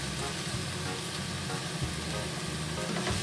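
Chicken pieces sizzle skin-side down in a hot wok, a constant crackling fry with faint low rumbling underneath.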